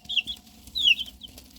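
Baby chicks peep in short, high chirps, a few quick calls close by against a quiet background.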